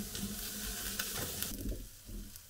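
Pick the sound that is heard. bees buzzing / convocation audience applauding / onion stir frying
onion stir frying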